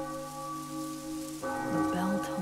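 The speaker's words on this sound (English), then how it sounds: "The bell tolls again." A church bell tolls in the video game Octopath Traveler 2, entering after a steady ambient hum with a deep resonant strike that rings on and swells, loud and close, with no one speaking over it.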